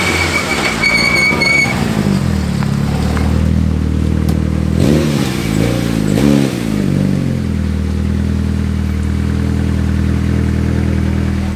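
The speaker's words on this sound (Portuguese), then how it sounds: "Este carro é um 2000 turbo" Mitsubishi Lancer Evo 6 rally car with a 2.0-litre turbo engine, group A spec with a 34 mm restrictor, revving loudly and close by, with repeated sharp throttle blips rising and falling over a rough idle.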